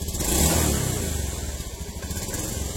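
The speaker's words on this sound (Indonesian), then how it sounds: "jadi berbet di putaran bawah. Lagi-lagi ini penyakit motor injeksi ya" Honda Beat fuel-injected scooter with a jerking fault at low RPM, engine swelling briefly then settling into an uneven, pulsing idle-level drone with small surges.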